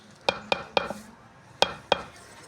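Wooden stick knocking against a cooking pot while saag is stirred, five or six sharp, close clacks spaced irregularly with a faint background hiss.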